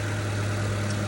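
Steady, even idle of a 2017 Honda Civic sedan's 2.0-liter K20C2 non-turbo inline-four with i-VTEC, a constant low hum with no revving, heard alone.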